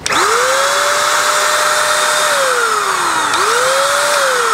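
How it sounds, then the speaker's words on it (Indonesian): A Coofix CF-SG001 electric paint spray gun motor runs loud and steady for the whole stretch, its whining pitch sliding down and climbing back up again near the end. "kalau kita pencet triggernya baru dia mesinnya nyala"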